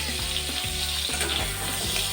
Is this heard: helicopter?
no